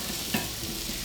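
Vegetables and mushrooms fry in a pan with a steady soft sizzle and a brief stir or toss partway through.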